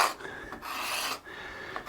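A scraper shaves a wooden guitar neck in two long raspy strokes with a short pause between, close and fairly quiet, a dry scraping rub on wood.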